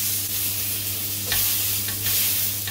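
Steak sizzles and spits in a hot pan with a continuous frying hiss, punctuated by a couple of louder crackling bursts as the meat is moved, close and without talk.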